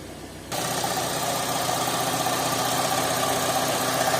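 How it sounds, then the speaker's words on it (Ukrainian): A car engine runs at a steady, raised idle that will not drop below 1000 rpm, a constant loud drone with slight vibration, starting abruptly after a brief quieter moment. "Бороти двигуна чомусь не падають на холостих нижче тисячі"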